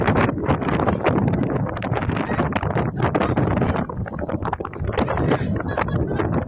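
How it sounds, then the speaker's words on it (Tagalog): Strong, gusty wind roars and buffets the microphone continuously, loud and rough throughout, with no voices. "Lumalakas yung hangin, no?"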